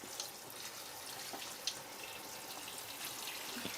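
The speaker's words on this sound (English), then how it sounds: "Now that the water level's a little higher" Water pours steadily into a Giantex portable compact mini twin-tub washing machine, a constant splashing rush with a few faint drips and clinks, heard close and with no talk over it.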